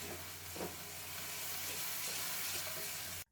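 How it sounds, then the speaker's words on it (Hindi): Taro root (arbi) fries in a pan, a dense, even, steady sizzle close by with a brief stir near the start, then cuts off abruptly, with no talking. "अब अरबी डालने के बाद हम 5 मिनट अच्छे तरीके से भूनेंगे"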